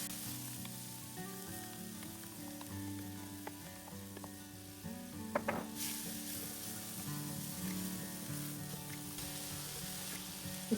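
Crab legs sautéing in hot curry oil in a pan: a steady, fairly soft sizzle and crackle throughout, with a few sharper spits and pops partway through.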